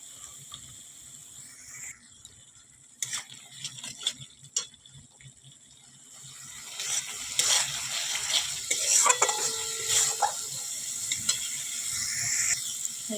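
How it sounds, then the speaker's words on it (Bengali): Ground spices with a splash of water fry in a pan for a Bengali egg curry, crackling with a steady sizzle that swells in the second half while a spatula scrapes and stirs in irregular strokes; no voices. "সব মশলা দিয়ে একটু জল দিয়ে ভালো করে কষিয়ে নেব"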